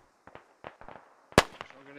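Sharp, loud gunshots crackle in a Squad battle, several scattered reports and then one big close blast, with a voice talking among them.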